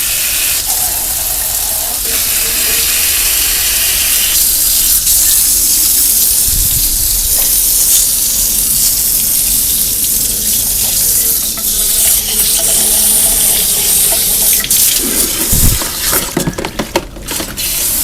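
Pressurised water spray hissing and gushing steadily over motorcycle engine intake parts being washed, close and loud, with occasional clatter and splashing bursts near the end.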